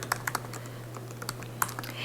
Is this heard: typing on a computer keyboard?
yes